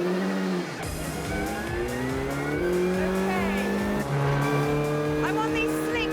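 Hot hatch on slick racing tyres at Cadwell Park circuit during a warm-up lap, its engine revving hard and climbing through gears with rising and falling pitch, loud and close, brief tyre squeal, no talk over it.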